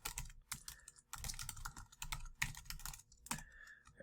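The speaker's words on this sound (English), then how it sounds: "So I'm just going to type in any type of assessment that I want." Rapid clacking keystrokes on a computer keyboard come in several close bursts with short pauses between, loud and alone with no talking.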